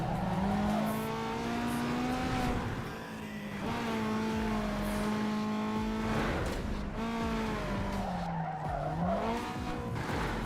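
Racing car engine from the street racing game Need for Speed: Underground 2, a sustained revving whine that rises and falls through gear shifts, with tire skids and squeals over steady background noise.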